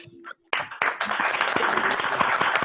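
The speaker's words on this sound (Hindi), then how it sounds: "जोरदार तालियों के साथ" Applause from an online meeting audience welcoming a speaker: after a short silent gap, dense clapping bursts in and continues loudly to the end.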